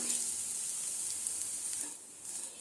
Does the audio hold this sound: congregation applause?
no